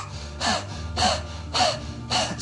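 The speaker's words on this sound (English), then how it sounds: "Like a dog panting, but really it digs deep into your chest." Four quick, forceful panting breaths with the tongue out, like a dog, in a breath of fire yoga exercise; evenly spaced, close and clear, with no speech.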